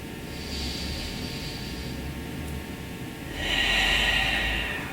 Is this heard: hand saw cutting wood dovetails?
no